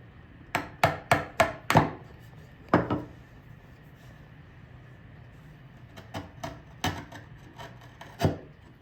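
Steel chisel struck into wood while chopping a mortise for a mortise-and-tenon joint: a quick run of five sharp taps, a lone knock, then a looser cluster of lighter taps and a final louder blow, close and dry in a quiet room.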